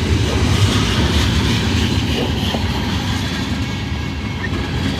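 A Norfolk Southern manifest freight train rolls steadily past up close, a long string of tank cars giving off a continuous loud rumble with faint wheel clatter throughout.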